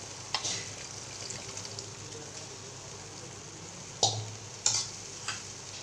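Soaked soybean chunks tumble into hot oil and spicy masala for a Maharashtrian soybean bhaji, giving a steady low sizzle with a few sharp clinks and stirring knocks near the end.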